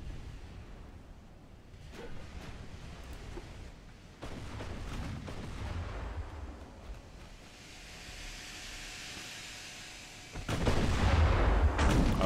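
Battleship main guns firing at sea in the naval game Ultimate Admiral: Dreadnoughts: deep booms roll out over a constant wash of wind and surf, and a final salvo lands loud and close.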